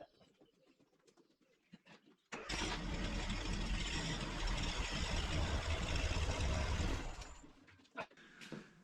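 A Ferguson tractor engine starts abruptly and runs loudly with a rough, steady rumble as it drives into a workshop, then cuts out after several seconds, leaving faint ambient sounds with birds and pigeons cooing.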